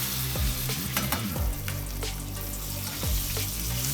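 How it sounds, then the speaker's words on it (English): New York steak sizzling loudly in a pan as it is flipped and basted with fat, a steady close crackle and hiss with scraping and spoon strokes, no talking. "And I'm going to flip it and baste the other side."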